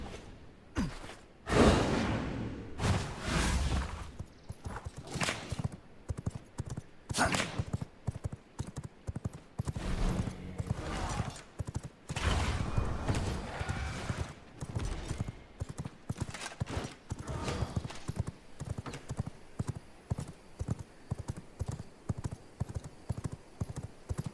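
Rhythmic horse hooves in the video game V Rising clip-clop in a steady gait, close and clear, with occasional breathy snorts between the steps.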